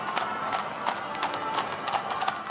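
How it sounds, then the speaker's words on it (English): Hooves of a horse-drawn carriage clip-clopping at a steady trot, moderately close and continuous over a low background hum. "horse-drawn carriage taking the monarch from Buckingham Palace to the Palace of Westminster"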